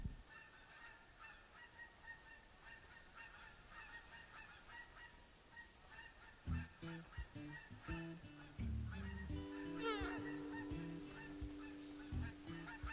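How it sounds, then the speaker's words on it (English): Geese honk repeatedly in the hunting game theHunter Classic, calls growing louder and denser in the second half over a steady ambient outdoor bed, with no talking. "Are the geese landing?"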